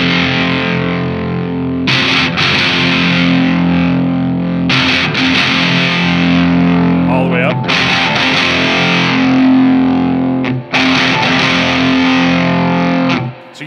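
An electric guitar played through an LSL Vital DS distortion pedal with the mids scooped gives loud, thick distorted chords, struck repeatedly and left to sustain between strikes, with no talking.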